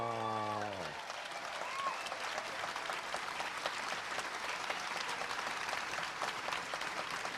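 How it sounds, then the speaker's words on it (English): Sustained applause from a panel-show audience fills the room, dense and steady throughout after a brief tone at the start, clapping alone without talk. "Big round of"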